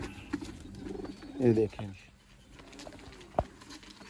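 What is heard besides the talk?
Sialkoti pigeons cooing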